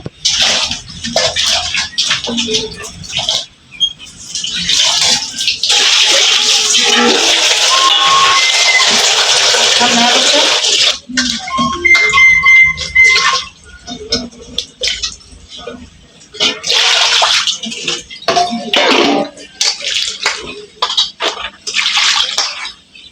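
Running water splashes loudly as vegetables are washed at home, in long continuous stretches broken by brief pauses, with some handling clatter and faint voices in the background.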